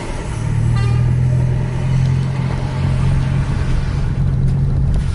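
A Hino R260 bus engine drones loud and close as the bus accelerates hard, a steady low growl rising in pitch, with no talk over it.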